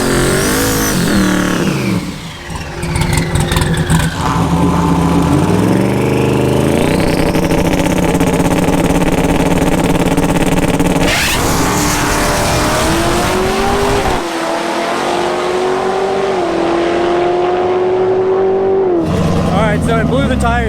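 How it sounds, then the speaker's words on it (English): A lowered race car with smaller rear tires launches at LS Fest, its engine roaring loud and close as the rears spin hard, pitch climbing and dropping through the run while a voice comments over it. "that was one of the quickest tire spins I've ever seen"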